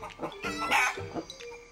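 A chicken clucks in a quick run of short, throaty calls, close by and clear, with no other sounds around it.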